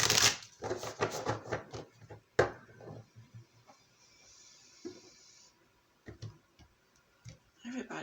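Tarot cards are shuffled in quick flurries of crisp riffling and tapping, loud at the start and then in sparser bursts, with a soft voice heard briefly.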